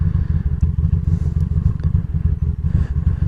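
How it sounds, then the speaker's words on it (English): A motorcycle engine idles low and lumpy, bogging as the clutch is let out and the bike starts to creep forward, with a steady close chugging throb. "the motorcycle is going to start moving. See, now we're moving a little, and you can hear the engine kind of bogging."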